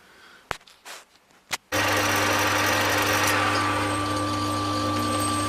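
A metal lathe turning down an aluminium coupling part for an Easiturn Zdrive starts up after a few faint knocks, then runs as a loud, steady machine drone with a constant hum for the rest of the clip. No one speaks.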